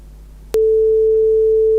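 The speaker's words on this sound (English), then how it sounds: "That's a sine wave playing in the background." After a brief low hum, a loud, steady pure synthesized sine wave tone starts abruptly and holds unchanged to the end.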